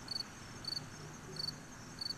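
A cricket chirps in four evenly spaced short bursts, faint and steady against a quiet background.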